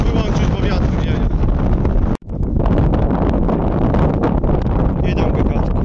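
Loud wind buffets the microphone in a constant low roar and rumble, broken by one abrupt dropout, with faint sounds behind it.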